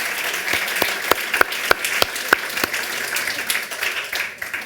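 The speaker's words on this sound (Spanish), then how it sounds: "todas las mujeres deberíais darle un aplauso a Eugenio" An audience bursts into steady applause for a man named Eugenio at a Spanish-language talk, dense clapping lasting several seconds with a few sharper claps standing out before it begins to thin.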